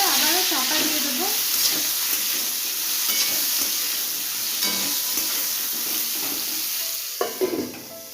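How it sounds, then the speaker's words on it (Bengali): Bottle gourd stems fry in a pan as turmeric is stirred in, with a constant hissing sizzle and repeated scraping stirs close by, ending in a few sharper knocks. "এবার নাড়াচাড়া করে আবারও চাপা দিয়ে দেবো"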